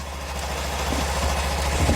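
A Kawasaki Z250 motorcycle engine idles close-up, giving a steady low drone with a faint mechanical rattle from a worn cam chain and tensioner.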